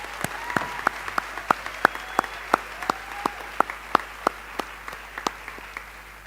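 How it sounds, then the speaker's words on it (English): Audience at a girls' school prize giving clapping for the performers: distinct, fairly sparse claps in a steady, even rhythm, moderately faint against a quiet hall. "I think the artists need another big round of applause."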